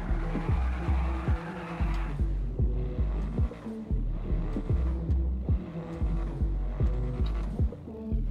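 A car with a replaced exhaust in GTA 5 drives with a throbbing, pulsing engine note, rhythmic revs rising and falling repeatedly, with tire noise at the start.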